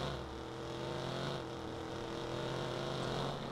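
Car engine in the video game Watch Dogs, a faint, steady humming drone with a low rumble and a hissy wash on top that swells slightly toward the end of a few seconds.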